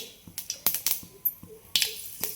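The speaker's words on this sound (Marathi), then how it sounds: "मोहरी आपली चांगली तडतडली" Mustard seeds crackle and pop in hot oil for tempering, a quick irregular series of sharp close snaps, about a dozen in a couple of seconds.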